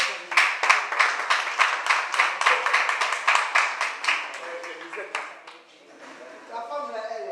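Audience clapping for a woman at a community meeting, rhythmic group applause that fades out after a few seconds, then voices talking.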